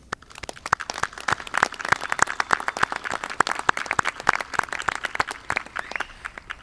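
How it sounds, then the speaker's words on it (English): Audience applause at a nursing school commencement ceremony, many hands clapping in a dense, irregular patter that holds at moderate loudness for several seconds. "I am proud to lead all attendees in a round of well-deserved applause on this momentous day"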